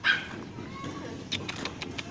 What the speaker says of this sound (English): That's the third small puppy I've seen in the last few days at different places.